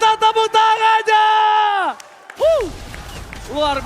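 Esports arena crowd applauding during an MPL Indonesia match, with clapping and cheering mixed under loud, tonal voices and music-like sustained notes.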